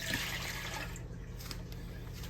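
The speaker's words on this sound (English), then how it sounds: "we're gonna add all our liquids first. And the milk." Milk poured into a bread machine pan, a soft steady liquid stream splashing close by for about a second before trailing off into quiet background hiss.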